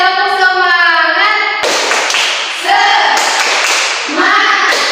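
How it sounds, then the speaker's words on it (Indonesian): A classroom group claps a rhythmic spirit clap in unison, loud and close, with a few voices chanting before the clapping starts and again near the end. "1, 2, 3, tepuk semangat."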